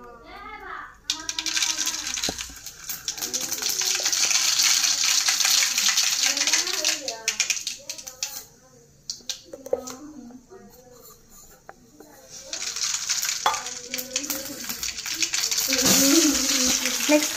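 Mustard seeds fry and get stirred in hot oil, making a bright hissing sizzle that comes in two long stretches. A child and an adult talk throughout.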